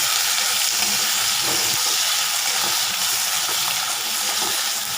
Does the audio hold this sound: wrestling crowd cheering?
no